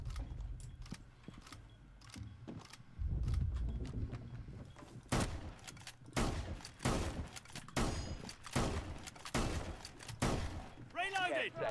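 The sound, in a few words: swapping magazines, reloading gun in Rainbow 6 Siege video game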